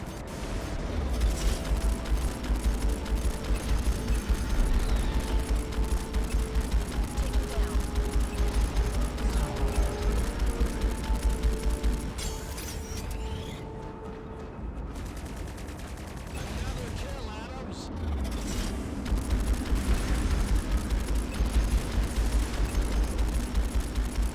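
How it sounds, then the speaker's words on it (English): Beam cannon fire in a space battle from the video game Strike Suit Zero: a dense, continuous barrage of rapid shots and heavy low rumble, easing briefly midway before resuming at full force. "Oh, they have beam cannons, that's why."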